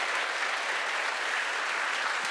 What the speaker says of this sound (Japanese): あの講師を務められた山本先生山本慎也さんに拍手であれやってください